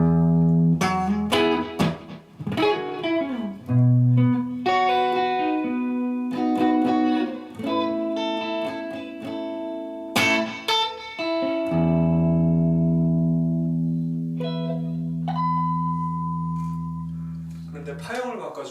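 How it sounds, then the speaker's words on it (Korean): Electric guitar played in a plain, unprocessed tone: a run of distinct plucked notes and chords ringing out one after another, ending on long sustained chords, loud and close with no talking. "원래 일렉기타는 이런 소리가 나죠"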